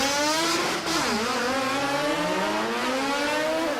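A Datsun 1000 drag car launches hard off the line at a drag-racing meet, its small engine screaming loud and close as rising revving harmonics sweep upward, with a brief bog just after the start.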